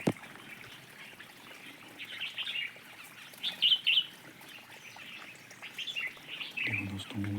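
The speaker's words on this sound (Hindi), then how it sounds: "उड़ रही है चिड़िया, बहुत ही मनोरम दृश्य है।" Small birds chirp and tweet steadily at moderate distance outdoors near trickling water, with a few louder bursts of calls and a low rumble near the end.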